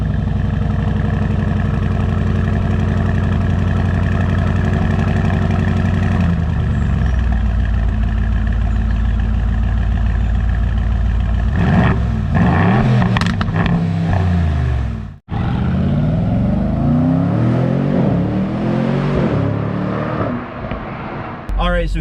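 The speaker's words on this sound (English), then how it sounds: "that 4-liter twin turbocharged V8. It sounds absolutely wild." Aston Martin Vantage S Roadster with a 4-liter twin-turbocharged V8: a loud, close idle with a deep steady rumble, then sharp revs that rise and fall, with a brief cut midway.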